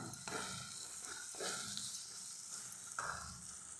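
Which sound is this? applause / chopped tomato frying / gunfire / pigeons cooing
chopped tomato frying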